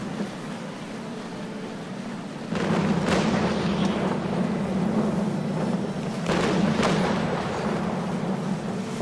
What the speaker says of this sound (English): Fire out some ranging shots, put one on his deck.